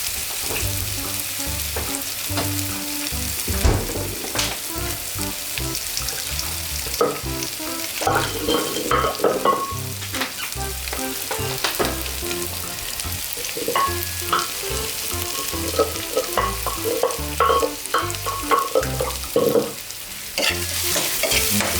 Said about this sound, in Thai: เรากำลังสิเอาเครื่องไปทอด